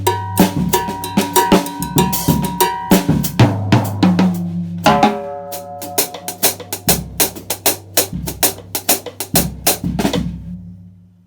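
A drum kit plays a Latin jazz groove with a cowbell pattern, cymbals and toms, punctuated by a salsa-style fill; loud, close and rhythmic, with a busy mid-section and steady pulsing hits toward the end.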